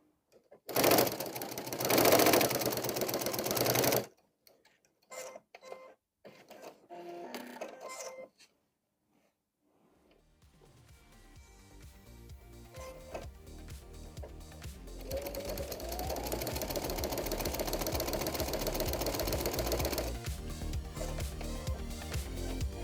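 A Baby Lock Soprano sewing machine with a walking foot stitches quilting grid lines. A brief burst of mechanical noise comes first, then the stitching runs steadily, close and fairly loud, with no talking.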